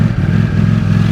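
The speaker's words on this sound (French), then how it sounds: "on va démarrer le moteur quand même parce que c'est intéressant" A 2023 Ducati Streetfighter V4S, an unfaired 208-horsepower bike, idles loud and close after starting, a rough, throbbing engine note with a steady, lumpy beat.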